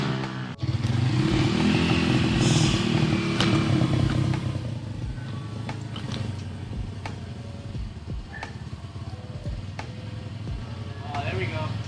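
An Apollo RFZ 140cc pit bike engine runs loud and close, holding a steady throttle before settling into a lower, rougher idle with mechanical clatter, while people talk over it.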